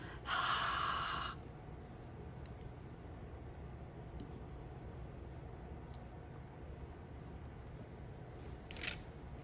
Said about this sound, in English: so you want to exhale on that ink to re-moisten it because it does dry out pretty quickly